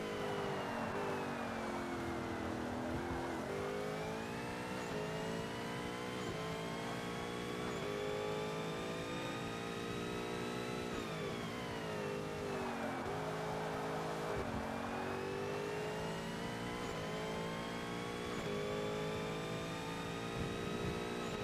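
A Mercedes SLS V8 roars in the Forza Motorsport racing game, loud and steady as the revs climb and fall in long sweeping pitch changes with gear shifts, continuous throughout with no talk.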